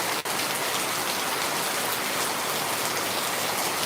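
Heavy rain pours down steadily and evenly, a dense unbroken hiss of drops on surfaces with one sharp tap near the start.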